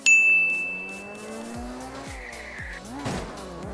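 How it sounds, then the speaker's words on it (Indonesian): A car in the mobile battle-royale game Free Fire accelerates with a rising engine whine, then its tyres squeal and skid through repeated sharp braking and turns. The game sound effects play close and loud, with no talking. "Suara mobil."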